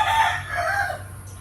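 A rooster crows in the morning on Langkawi island, Malaysia, one drawn-out call heard from a moderate distance, fairly clear against a quiet background with no talking.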